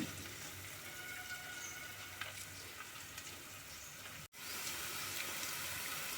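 Ivy gourd (dondakaya) fries with garlic in a pan, making a soft, steady sizzle throughout with a brief cut near the end.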